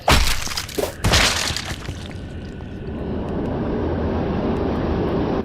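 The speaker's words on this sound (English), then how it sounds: "There's a plane." An airplane passes overhead in the video game Vein, a broad roaring rumble that swells loudly at the start and then settles into a steady, sustained drone.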